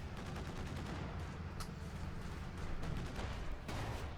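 Tank shells strike an ISU-152 heavy assault gun in Company of Heroes 2. The impacts and distant battle fire are faint and continuous, forming a low rumbling wash with a sharp crack partway through.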